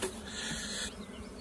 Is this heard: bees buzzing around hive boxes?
yes